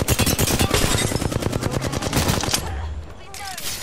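Rapid automatic gunfire in a sci-fi video game, a dense burst of sharp, loud shots for about two and a half seconds that then breaks off into quieter rumbling effects.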